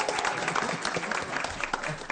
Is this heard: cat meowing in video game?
no